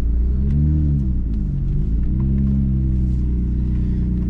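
Nissan GT-R engine running while parked, a deep, steady rumble close by with a few gentle revs swelling and easing, no voices.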